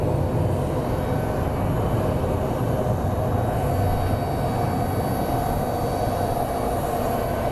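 A British Airways Boeing 777 taxis at Phoenix Sky Harbor airport, a steady broadband jet-engine rumble and whine heard from a distance, constant and unbroken throughout.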